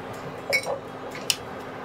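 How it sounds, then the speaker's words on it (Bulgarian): A glass jar of preserved tomatoes is tipped over okra in a pot, giving soft wet squishing thuds followed by one sharp, bright clink of glass. "Сега ще добавя този буркан."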